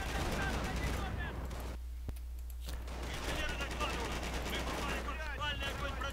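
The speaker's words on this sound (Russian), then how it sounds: "Док Уайт под огнем." Continuous Company of Heroes battle sounds from the Normandy D-Day landing, with rapid gunfire and chaotic noise throughout, voices calling out underneath.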